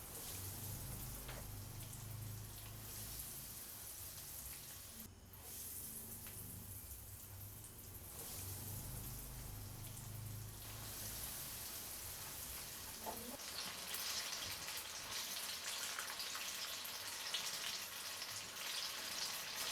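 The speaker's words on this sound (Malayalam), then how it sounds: "ഓയിൽ നല്ലതുപോലെ ഒന്ന് ചൂടായിട്ട് വരുമ്പോഴത്തേക്കും നമുക്കിതിലേക്ക് ഓരോ ബനാന റോളായിട്ട് ഇട്ട് കൊടുക്കാം" Banana rolls deep-frying in hot oil over a medium flame, a faint, continuous crackling sizzle with soft bubbling pops that rises slightly as the frying continues, heard alone without any talking.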